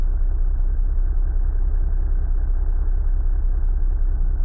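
Steady, loud car engine in the Mimic Search game, a continuous low rumble with no change in pitch, heard alone without voices.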